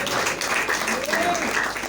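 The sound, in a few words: church congregation applause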